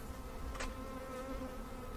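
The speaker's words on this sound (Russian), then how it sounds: "Я думаю, пчелки еще прибавится, потому что она летает." Honey bees buzzing as they fly around an open hive during beekeeping work, a continuous faint hum with one brief louder pass of a bee close by.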